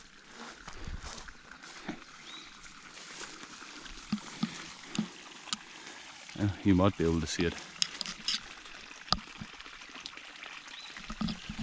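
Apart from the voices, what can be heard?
water gushing out of a drilled borehole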